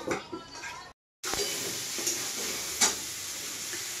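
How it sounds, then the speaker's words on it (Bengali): Chicken sizzles steadily in a pan, with occasional scraping and clinks of a utensil stirring, after a brief silent gap. "আমার পিঁপা দিয়ে মাংসটা ভাজা হয়ে গেছে।"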